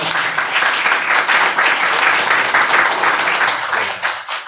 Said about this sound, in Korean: 이럴 때 박수 한번 해야 되는 거 아니에요?